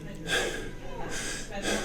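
A person imitates stressed breathing with a series of sharp gasping inhales and snorting breaths, close and fairly soft, three bursts in quick succession.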